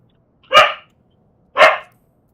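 Two loud, close barks from a pet dog indoors, spaced about a second apart with silence around them.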